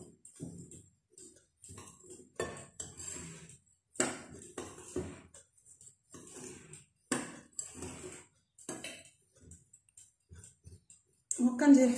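A spoon stirs dry semolina and coconut in a bowl, making light, irregular clicking and scraping taps close by, interspersed with someone speaking.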